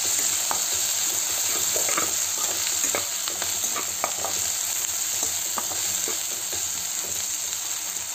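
Onions fry in a pan with spices and green chillies, a steady close sizzle running throughout while a spoon stirs and scrapes with scattered light clicks.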